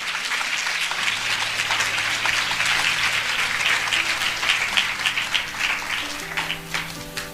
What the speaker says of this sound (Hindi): आइए हम इस वचन के लिए अच्छी ताली बजाएंगे।